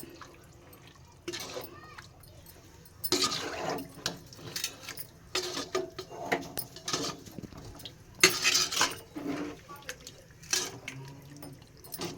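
Water poured into a pot of Sunday-special chicken gravy, with several splashy bursts in a row amid metal clatter from the pot and utensils, close and moderately loud.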